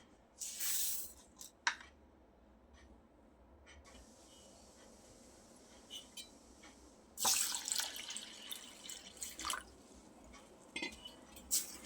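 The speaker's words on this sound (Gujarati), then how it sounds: "એને મસળીને સરસ 2 થી 3 પાણીથી ધોઈ લઈએ." Rice and lentils for a Girnari vegetable masala khichdi are rubbed and rinsed by hand in a bowl of water, giving close, splashing bursts of swishing and dripping water separated by quieter moments.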